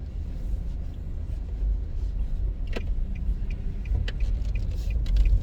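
A car drives along a residential road on Waterloo Road, with steady low rumble of engine and tyres throughout and a few faint clicks and jingles inside the cabin.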